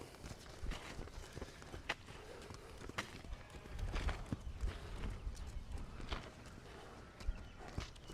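A young horse walks and trots on soft ground during a first-day groundwork session, giving irregular muffled hoof thuds and scuffs, some heavier footfalls midway, with faint handling noise and no clear speech.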